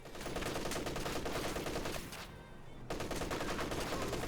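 Rapid bursts of MG34 machine gun fire in a World War II shooter match, dense and continuous with a short lull midway before the firing resumes.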